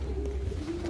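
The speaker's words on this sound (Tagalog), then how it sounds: "So lima yung kalapati natin dito" Low, steady pigeon cooing hums close by, a soft continuous throaty drone with faint background noise.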